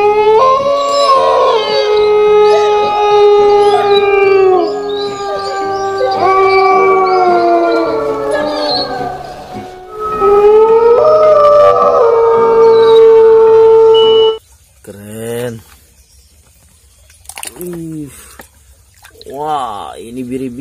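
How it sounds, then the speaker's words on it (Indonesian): A toy wolf sounds a long, loud, wavering howl that rises and falls for about fourteen seconds, then gives way to a few short, sharp electronic chirps and gaps. "Wow, ini serigala"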